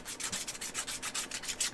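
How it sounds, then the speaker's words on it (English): Rhythmic scratchy sanding off the corners of a wooden monowheel part, about a dozen quick back-and-forth strokes, close and steady with no voices. "I'm just sanding and taking the very corners off of this"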